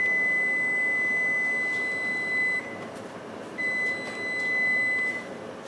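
An electronic kitchen timer beeps in two long bursts with a short pause between, loud and close over faint room tone, while pickled eggplant is being made.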